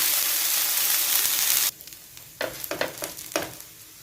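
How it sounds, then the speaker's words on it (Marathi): An onion uttapam fries on a hot pan with a strong, continuous sizzle that stops abruptly partway through. Several short scraping and stirring sounds follow, close and clear. "आणि दोन्ही बाजूनी छान भाजून घ्यायचं."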